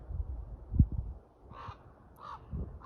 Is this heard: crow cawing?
yes